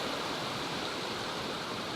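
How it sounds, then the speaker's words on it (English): A mountain creek in the Sierra Nevada, swollen with snowmelt, rushes in a steady, dense, close roar with no breaks and no voices. "let me just cross this creek quickly."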